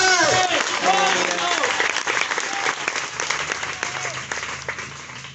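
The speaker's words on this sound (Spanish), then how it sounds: "Pueden darle palmas al Rey." A church congregation applauds during a Spanish-language sermon, a dense round of clapping that starts loud and slowly thins, with voices and murmuring mixed in.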